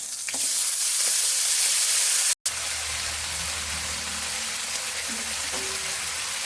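Malabar spinach sizzles loudly in hot oil, a steady crackling hiss with light stirring sounds and a brief break partway through.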